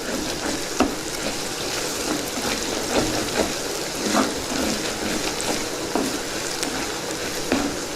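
Ginger-garlic paste with turmeric sizzles steadily in a hot pan for a mushroom curry, a dense, even frying hiss broken by soft scrapes and taps as it is stirred.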